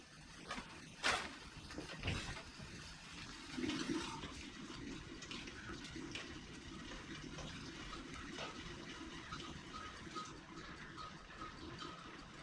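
Hot water pours into a pot on a wood cook stove to form a shallow layer for making applesauce, a steady splashing fill with a louder gush early on, running close and alone without talk.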